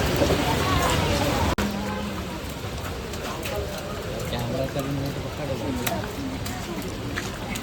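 Heavy rain pours down steadily at an outdoor Ganpati procession, a broad hiss with patters, while voices chatter through it and a sharp click cuts in briefly.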